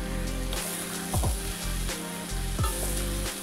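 Vegetables sizzle and crackle steadily in a hot pan for a healthy low-calorie weight-loss meal, with a few sharp clanks from a utensil stirring them close by and no one speaking.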